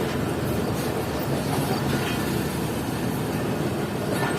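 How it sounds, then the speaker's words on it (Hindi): Train pulling out of Nawabshah Junction railway station, heard from on board as a steady, loud rumble of rolling wheels and carriage noise with faint rhythmic clatter throughout. "तकरीबन 2:45 बजे हमारी ट्रेन निकल रही है नवाबशाह जंक्शन रेलवे स्टेशन से"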